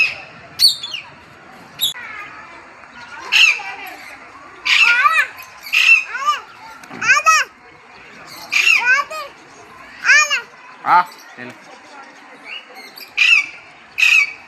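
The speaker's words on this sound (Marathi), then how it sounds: "इथे एक ग्रीन कलरचा पोपट आहे बघा तिथं बसलेला आहे" A green parrot squawks repeatedly at a zoo, giving harsh, loud calls in irregular bursts over a steady background of children's voices and crowd chatter.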